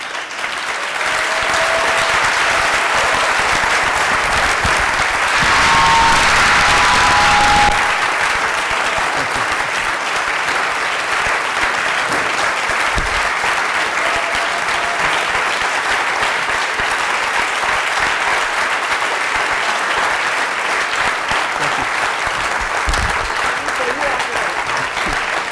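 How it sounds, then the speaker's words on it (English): An audience at a Kristallnacht commemoration breaks into long, sustained applause, a dense even roar of many hands clapping continuously, loud and unbroken, with brief faint voices near the start. "This is very much for the two of them, your applause."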